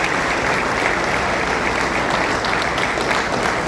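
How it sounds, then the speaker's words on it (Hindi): A standing audience at a traders' and entrepreneurs' meeting in Faridabad claps in steady, dense applause that stays loud and unbroken throughout. "खड़े होकर ताली बजा के धनखड़ जी को विश्वास दिलाओ"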